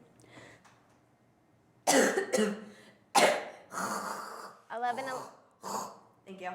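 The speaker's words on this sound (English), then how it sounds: "I'm about to cough, and it ain't gonna be pretty" A person coughs several times in harsh, close bursts, with breathy gasps between them.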